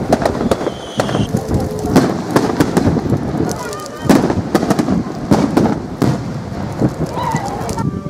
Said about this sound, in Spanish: A su término tuvieron lugar las hogueras y los tradicionales fuegos artificiales.